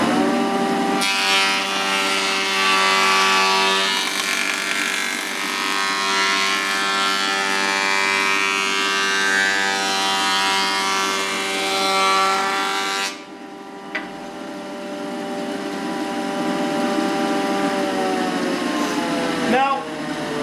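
Figured wood fed through a jointer planer, a steady loud machine whine and cutting roar with a strong tonal hum, cutting out near the middle, then the motor spinning on with a brief knock near the end.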